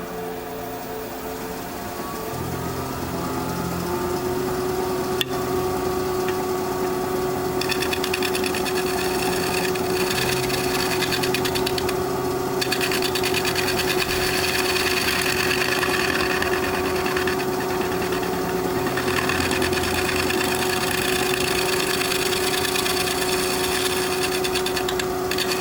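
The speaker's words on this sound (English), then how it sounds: "just a couple of light shear scrapes and I should be able to remove those and be ready to sand" A wood lathe spins steadily while a shear scraper takes light passes across a 20-inch natural edge pecan bowl, giving a continuous loud whine with a faint, shifting scraping texture and no talking.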